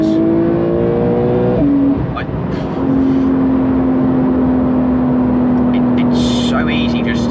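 A Porsche 911 accelerates hard to overtake, its engine note rising steadily and holding a strong, sustained drone throughout, heard from inside the car with a voice talking over it.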